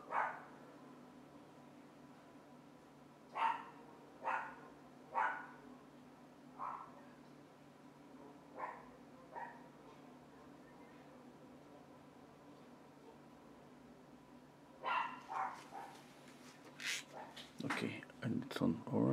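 A dog barks faintly in the distance behind steady background hiss, scattered single barks at irregular intervals, becoming more frequent and clustered near the end.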